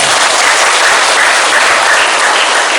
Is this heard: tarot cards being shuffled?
no